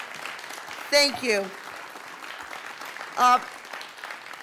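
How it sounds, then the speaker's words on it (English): Audience clapping at a Rotary speech competition continues steadily in the background while a voice speaks a few words over it at moderate loudness. "Let's give everybody a big round of applause."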